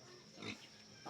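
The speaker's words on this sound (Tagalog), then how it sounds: "Oh, mayroon pang baboy, baboy." A pig grunts once, briefly and at a moderate distance, against faint outdoor background noise.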